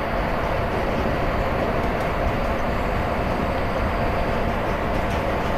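An Indian Railways train runs at about 51 km/h with the throttle at 40% in the Railworks simulator on the Aluva to Angamali route, giving a steady, loud, unbroken rumble of wheels and carriages with no voices.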